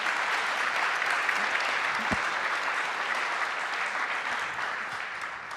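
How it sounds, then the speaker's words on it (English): Steady, dense applause from an audience at the close of a conference breakout session, holding at an even level for several seconds and tapering only slightly at the end. "Give them a round of applause"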